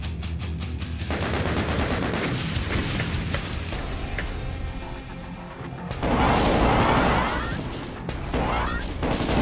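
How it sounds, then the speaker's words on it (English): Rapid bursts of weapon fire and heavy impacts from a plasma cannon and other guns in Doom, a dense, loud barrage of repeated shots with crashing hits and a brief lull midway, no speech heard. "the slight delay on the plasma cannon on the refire"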